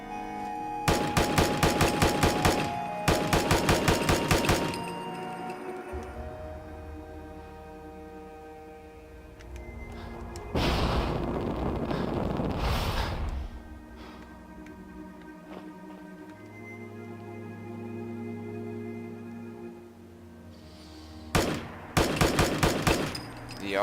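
An assault carbine fires in bursts in a Fallout 4 video game mod, rapid automatic volleys with ringing echoes and mechanical handling sounds between the strings of shots.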